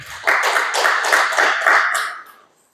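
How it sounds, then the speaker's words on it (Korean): A church congregation breaks into a burst of hand clapping during a sermon, the applause swelling quickly, holding steady and fairly close for about two seconds, then fading out. "박수 한번 치세요."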